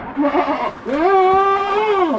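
Goats bleat close by, a short wavering call followed by a longer, drawn-out bleat with a strong nasal tone.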